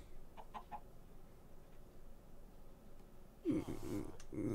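Chickens in the Minecraft GregTech New Horizons modpack give a few short, soft clucks early on, then a louder burst of clucking near the end over quiet background noise.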